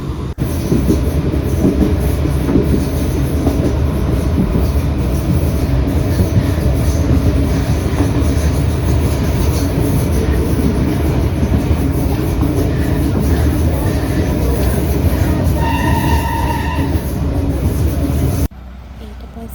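Steady rumble and clatter of a train rolling along rails in Sri Lanka, loud and continuous, with a brief high tonal squeal near the end before it cuts off.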